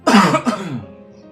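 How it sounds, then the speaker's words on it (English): A single harsh cough close to the mic, a rough burst that trails off into a brief throaty rumble. "Sorry, I coughed."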